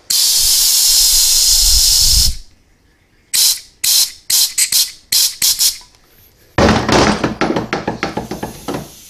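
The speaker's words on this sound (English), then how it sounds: "But you can see all that air escaping through the front" Compressed air hisses loudly out of a valve on a 4T65-E automatic transmission: one long blast, then a run of short sharp bursts, then a longer stuttering release that pulses rapidly before stopping.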